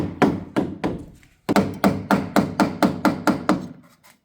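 Repeated hammer taps on a door sill during renovation, setting it into alignment: a few slowing knocks, a brief pause, then a quick regular series of about ten solid thuds, close and clear.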